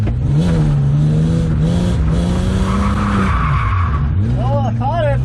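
A BMW E36 drifts with a clutch kick: the engine revs loudly and close, droning with rising and falling pitch, while the tires skid and squeal continuously through the slide.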